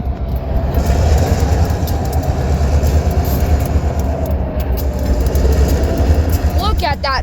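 An old diesel freight train passes nearby with a heavy, continuous low rumble and rolling clatter of wagons, steady and loud, with a brief squeal of wheels near the end.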